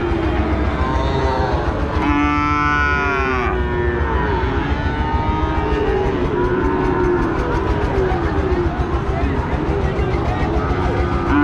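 Cattle lowing amid a busy crowd of voices at a cattle market in Joypurhat, Bangladesh, with a loud moo rising briefly early on over constant background chatter.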